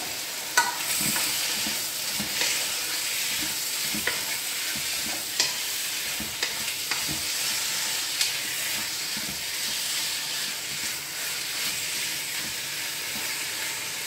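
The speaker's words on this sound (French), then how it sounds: "Il faut bien faire revenir votre viande" Turkey pieces browning in a hot pan for a blanquette, a steady close sizzle and hiss with occasional pops and light stirring scrapes, no talking.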